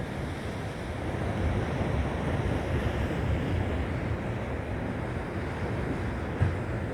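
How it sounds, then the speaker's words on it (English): Small waves lightly splashing against coastal rocks off the Palos Verdes shore, a steady broad wash of surf with gentle swells and some wind rumble on the microphone, fairly close and constant, with no talking. "Lightly splashing against the rocks here."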